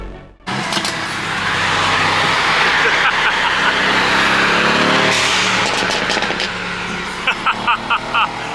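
A car drives along a European road toward the Netherlands, its engine and tire roar forming a loud, steady drone close by, with a few brief knocking bursts near the end.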